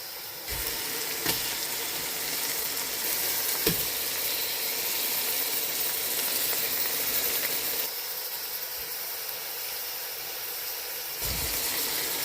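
Salmon fillets sizzle loudly in a hot pan, a constant close frying hiss with a few sharp pops and a brief dip in intensity before the sizzle swells again.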